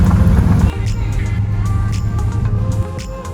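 Car engine and road noise while driving to a lake with two jet skis, 2001 Sea-Doo RXDi with Rotax 951 engines, towed behind; steady close rumble throughout, with faint talk underneath.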